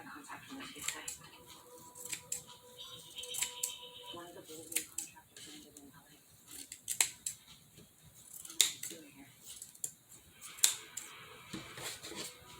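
Thinning shears snipping through tulle for a costume: repeated crisp metallic snips at an irregular pace, close by, over a steady hiss.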